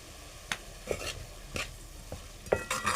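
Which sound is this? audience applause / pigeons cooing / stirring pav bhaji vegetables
stirring pav bhaji vegetables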